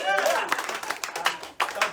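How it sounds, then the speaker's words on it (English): A small audience at a Muay Thai session claps in scattered, uneven bursts, with a voice talking over the start. "Give her a round of applause."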